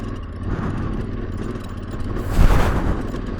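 Yamaha Ténéré 700 motorcycle engine with a steady rumble that surges into a louder, rough burst as the throttle is opened too hard, then settles back to a strong drone.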